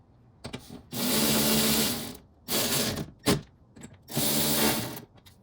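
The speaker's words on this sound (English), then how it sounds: "I'm gonna go ahead and be fine with the ratchets." Three bursts of rapid mechanical ratcheting, each lasting about a second, separated by short pauses and a sharp metallic click, as a ratchet wrench tightens bolts during a window regulator replacement on a 1999 Pontiac Grand Prix.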